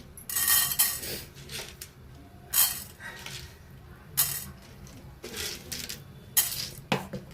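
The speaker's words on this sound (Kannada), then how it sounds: "ಇವಾಗ ಕಡಲೆಬೇಳೆ ಹಾಕ್ಕೋತಾ ಇದ್ದೀನಿ." Chana dal, split Bengal gram, poured into a metal pan for bisi bele bath powder, bursts of dry rattling clinks in several separate pours, close and fairly loud with spoon scrapes between.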